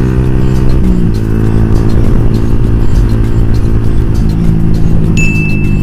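A modified Yamaha New Vixion motorcycle engine revving up close, loud and continuous with steady harmonic drone shifting pitch as the throttle is worked, no talk over it.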